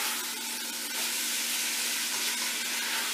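Pork liempo, a cut of pork belly, browns in a hot pan with a steady, even sizzle and hiss that runs unbroken, with no voices over it.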